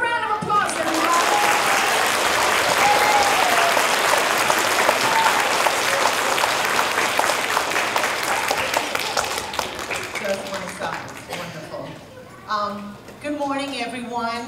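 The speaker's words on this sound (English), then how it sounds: "Give a round of applause, everybody." A school audience of students, teachers and parents at a Hispanic Heritage celebration gives loud, dense applause for the principal, sustained for about ten seconds before fading as voices and cheers rise over the tail.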